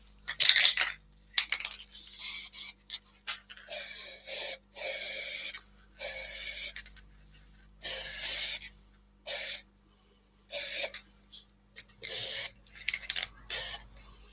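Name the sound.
airbrush spraying ebonizing lacquer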